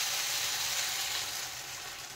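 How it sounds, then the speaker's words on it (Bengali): A pan of ridge gourd and potatoes cooked with spices hisses and sizzles steadily as water goes in, a close, soft frying crackle that eases slightly toward the end. "এখন আমি দিয়ে দিলাম জল।"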